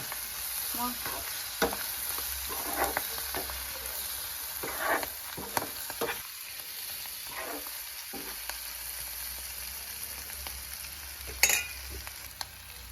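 Freshwater river mussels frying and being stirred in a pan, a steady sizzle with scattered scraping clinks of the spoon, moderately close, with no talking.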